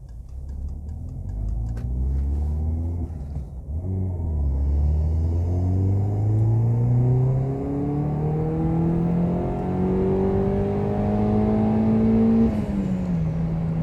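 A Peugeot 207 GTI fitted with a bigger intercooler pulls hard all the way to the red line, its engine note rising steadily and loud for over ten seconds before easing off.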